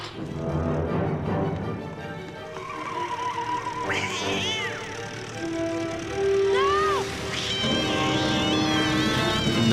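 A cartoon cat meows and yowls in an animated Batman episode, several drawn-out rising and falling cries over a busy background of music and scene noise.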